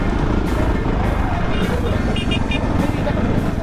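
Royal Enfield Himalayan motorcycle riding through snow near Sonamarg, Kashmir, its engine and exhaust a steady, loud drone mixed with wind and road noise, while a rider talks over it throughout.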